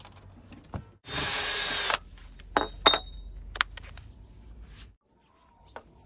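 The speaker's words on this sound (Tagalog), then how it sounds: "Tapos yung gamit muna tayo ng maliit na drill bit para sa ganun madaling pumasok" A small bit in a power drill bores a hole in a broken clothes hanger during a repair: one loud, steady whir close by, lasting under a second, followed by several sharp clicks and tapping sounds.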